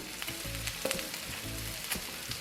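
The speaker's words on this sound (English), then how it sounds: "And we're just going to let it roast on the fire like that." A honey garlic pork roast sizzles over an open fire, a steady close crackling hiss with small pops and a few soft clatters throughout.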